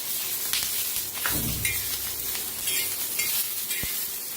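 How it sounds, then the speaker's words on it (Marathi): Green chillies fry in oil with crushed garlic and ginger, making a loud, continuous sizzle close by, broken by scraping stirring strokes and an occasional sharp tap. "आता मिरच्या छान भाजायला लागते, त्याच्यात आपण लसूण अद्रक चेचून घेतलेलं तेलात टाकूया."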